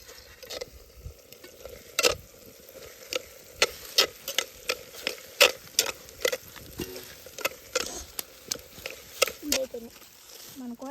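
A spoon stirs potato fry curry with crushed garlic in a pan, close rhythmic scraping knocks over a soft, continuous sizzle.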